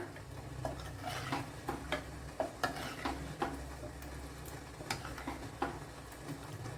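Buttermilk for a curd dish is stirred in a pan with a spoon, making steady, close ticking scrapes at a regular rhythm over a soft low background hiss, with no talking.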